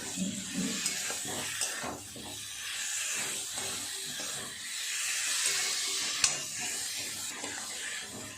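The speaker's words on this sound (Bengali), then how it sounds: "আলু পটল দিয়ে বেশ কিছুটা সময় মশলার সাথে এরকমভাবে কষিয়ে নিলাম।" Fried potatoes and pointed gourd sauté with spices in a pan, giving off a soft, steady sizzle and hiss with faint stirring scrapes and one small clink.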